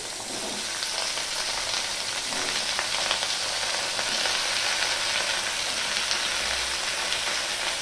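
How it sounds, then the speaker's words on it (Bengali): Potatoes hit hot oil tempered with black cumin seeds and sputter in a steady, dense sizzle that continues evenly throughout, with no talking. "এবার আমি আলুটা দিয়ে দেব।"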